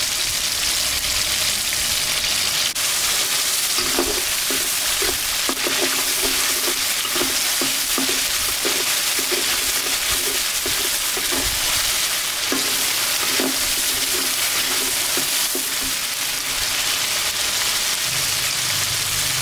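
Sambal chili paste stir-fried in a pan, a steady close sizzle with repeated scraping stir strokes running through most of the stretch, no voices.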